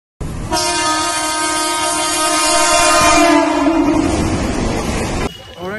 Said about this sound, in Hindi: ट्रेन जस्ट अभी आई है